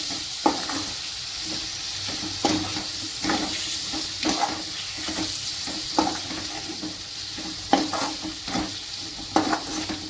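Finely chopped tomatoes are stirred in a frying pan during chicken biryani preparation, with a steady sizzle and repeated scraping strokes of the spoon at an irregular rhythm.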